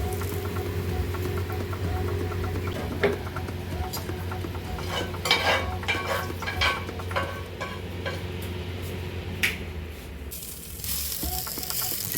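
Masala-coated small sea fish frying in hot oil, a steady close sizzle throughout with occasional light clinks of a utensil against the pan.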